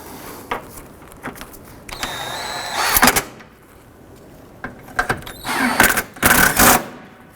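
Radiator bolts are snugged down on a 2007-11 Honda Civic, heard as close mechanical ratcheting and whirring bursts of a tool, separated by quiet gaps and small clanks.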